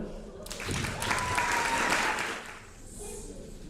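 An audience at the Sambori 2023 awards in Pla de Montserrat breaks into applause for a volunteer called to the stage, a short burst of clapping that rises and fades over a few seconds with some voices mixed in.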